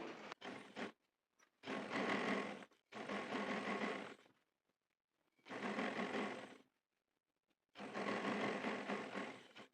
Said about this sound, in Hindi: यहाँ से सिलाई को पक्का करके एंड तक सिलाई लगा देंगे